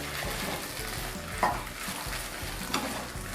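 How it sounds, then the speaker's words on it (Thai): Wide rice noodles stir-fried with soy sauce over high heat in a pan, with a continuous close sizzle and a few clinks of a utensil against the pan, no talking. "ผัดซีอิ๊วนะคะ ต้องผัดไฟแรงนิดนึงนะคะ"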